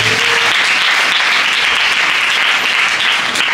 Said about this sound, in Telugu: చప్పట్లు ఒకసారి.